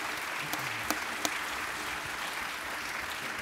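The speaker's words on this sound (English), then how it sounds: "how about a nice round of applause for our great panel today" Conference audience gives steady, sustained applause for a morning panel discussion, an even wash of clapping heard from a moderate distance with a couple of sharper claps standing out.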